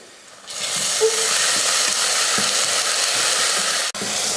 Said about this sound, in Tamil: இதை வதக்கிடலாம் வெங்காயம் பார்த்திங்கன்னா நல்லா பொன்னிறமாக இது போல் வதங்கிருச்சு